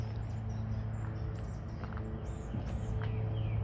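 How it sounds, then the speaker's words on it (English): Tufted titmouse calling on a cool morning outdoors, several faint high chirps and whistled notes scattered over a steady low background hum, distant and thin. "Okay, I'm hearing a titmouse for sure."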